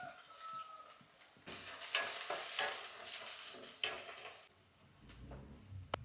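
Chopped onions and curry leaves frying in a pan for a colocasia leaf palya, village style: a quiet start, then a steady loud sizzle with stirring scrapes and a few sharp clinks, dropping to a low rumble near the end.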